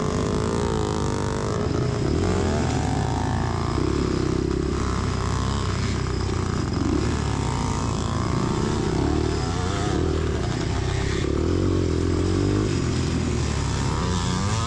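Yamaha IT and YZ motocross dirt bikes race on a Pennsylvania track, their two-stroke engines droning loud and constant with rising and falling revs as riders pass each other.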